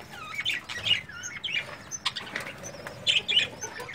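A female budgie at a breeding pot gives bright, repeated chirps and short bursts of wing flapping, close and fairly loud, with no talking.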